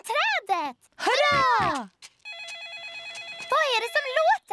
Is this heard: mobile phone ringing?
yes